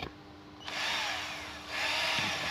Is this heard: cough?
no